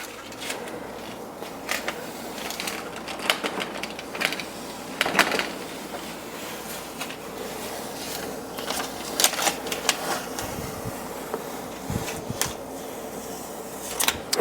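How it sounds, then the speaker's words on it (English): Masking tape peels away from freshly applied, still-wet silicone along a kitchen backsplash and countertop, giving close, crackly tearing bursts in short irregular pulls with brief pauses between them. "we're just going to take the tape and pull it up a little bit like that"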